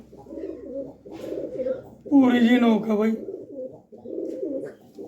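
Blue Madeen pigeons, including a small white-eyed female, coo in low repeated rolling bursts close by, while someone talks over them throughout.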